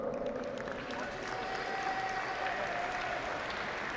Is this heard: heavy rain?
no